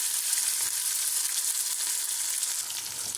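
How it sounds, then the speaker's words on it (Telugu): Onions, green chilies and curry leaves fry in hot oil for a besan dish, giving a steady, close, dense sizzling hiss that carries on without pause and with no voices. "ఉల్లిగడ్డ, పచ్చిమిర్చి, కరివేపాకు కూడా వేసేసామండి"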